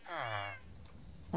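A cat in Minecraft gives a drawn-out, close mew, then begins a second one after a short pause, with no one talking.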